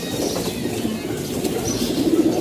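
Pigeons sitting in a loft, soft repeated cooing and low murmuring close by, with a little wing rustle over a steady background hum.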